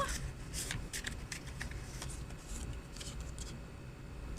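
Tarot cards shuffle in a close, soft, continuous riffle, with light papery flicks and slides repeating steadily in a quiet room.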